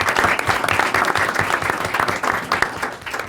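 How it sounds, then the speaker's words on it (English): A crowd claps steadily in a room at a Board of Education meeting and tenure reception, a dense, even patter of applause lasting the whole stretch with no speech. "they deserve a round of applause for their service"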